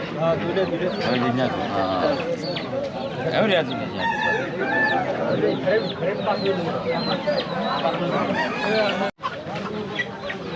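Chickens cluck and a rooster crows at a traditional rural village market in Bangladesh, loud and close, mixed with constant overlapping voices of people bargaining.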